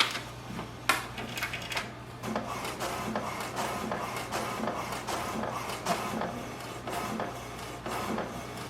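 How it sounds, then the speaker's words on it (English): An HP Deskjet 2923 inkjet printer printing an alignment page, with steady mechanical whirring, rhythmic print-head passes and paper-feed clicks, close and alone. "Wait for the printer. It can print the alignment page."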